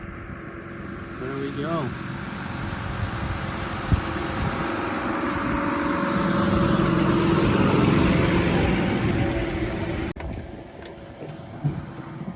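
A tractor tows a small roller across a silage field, its steady engine drone rising and falling as it passes at moderate distance, mixed with wind buffeting the microphone while someone talks over it.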